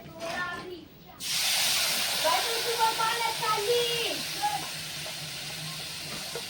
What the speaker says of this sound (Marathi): आता खूप छान असा तेलामध्ये आपण फ्राय करून घेऊया